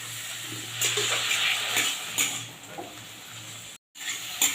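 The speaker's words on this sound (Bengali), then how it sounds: "এবারে সিদ্ধ করে রাখা ছোলার ডালটা দিয়ে দিচ্ছি" Boiled chana dal tipped into a pan of vegetarian chhola kochu curry, with scraping stirs and clatter of utensils against the pan over a steady low sizzle, then a short pause before the stirring picks up again.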